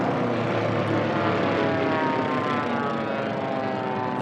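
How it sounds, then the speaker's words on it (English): Formula One class propeller racing planes roar loudly and continuously past the pylons at the STIHL National Championship Air Races, a steady high-pitched engine drone filling the whole stretch without talk. "Beautiful aircraft. I love that plane."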